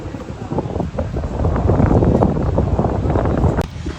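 Strong sea wind at Cox's Bazar beach buffets the microphone in loud, rumbling gusts that swell and ease without a break.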